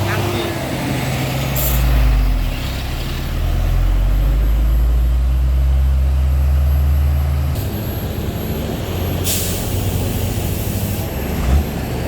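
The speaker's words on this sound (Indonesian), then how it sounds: "ini dia truk tangki" A heavy tanker truck rumbles loudly nearby on an uphill road with deep engine drone and a hiss of air, while people talk over it.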